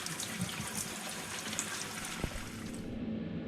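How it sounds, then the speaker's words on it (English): Tap water runs steadily over a head of cabbage being rinsed at a kitchen sink, a continuous close hiss and splash with small shifts as the leaves are turned, stopping near the end. "So I'm just going to give my cabbage a little bit of a wash."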